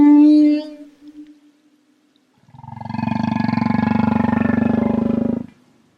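Whale song in the ocean: a long, resonant moaning call swells after a brief earlier tonal cry and a pause, holding steady for several seconds before fading, heard alone.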